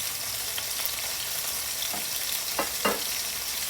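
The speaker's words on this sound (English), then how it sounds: "They're frying." Pork chops marinated in olive oil fry in a pan, a steady close hiss and sizzle throughout with a few brief louder pops, no talking.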